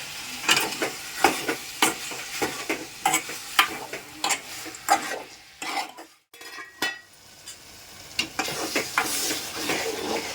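Spoon scraping and clinking in a pan while salt is stirred into a sizzling tomato curry, with repeated close metallic strokes over a steady frying hiss and a brief lull midway.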